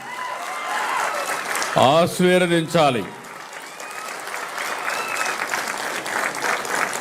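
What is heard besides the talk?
audience applauding loudly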